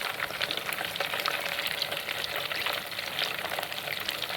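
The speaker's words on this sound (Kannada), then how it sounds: "ಬೆಣ್ಣೆ ಕಾಯ್ತಾ ಇದೆ." Butter being heated into ghee in a pan sizzles and crackles continuously, a close, busy frying hiss with no voices.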